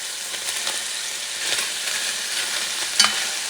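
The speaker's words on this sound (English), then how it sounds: "add the diced onion" Diced onion stirred into browned camel meat for red camel kabsa sizzles steadily in a hot pan, with soft scraping stirs and one sharper utensil knock near the end.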